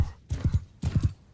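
Horse hooves pounding in Mount & Blade 2 Bannerlord with the Old Realms mod, a few loud close galloping beats in quick bursts with short pauses between, no talking.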